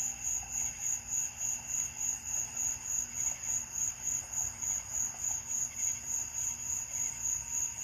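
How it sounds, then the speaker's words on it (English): Crickets chirp in a steady, pulsing chorus at night, a high continuous trill with faint low background hum, no talking. "You hear all them crickets?"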